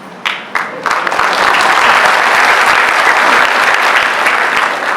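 An audience applauds at a youth day motivational talk, a few separate claps at first that quickly swell into loud, sustained, dense clapping that continues steadily to the end.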